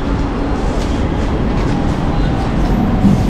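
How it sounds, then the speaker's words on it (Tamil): A suburban MEMU train arriving at Potheri railway station, a loud, steady rumble of wheels and carriages close at hand, with faint background voices. "பொத்தேரி ரயில்வே ஸ்டேஷன் ட்ரெயின் வருது"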